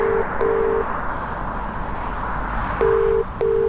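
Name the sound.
phone call ringing tone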